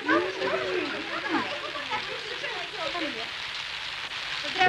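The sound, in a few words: rain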